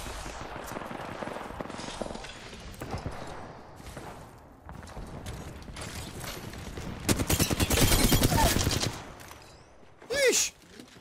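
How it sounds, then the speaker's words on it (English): Rapid video game gunfire from an online shooter: repeated cracking bursts that build to a dense, loud volley near the end. Players talk briefly around the shots. "Who is he shooting at?"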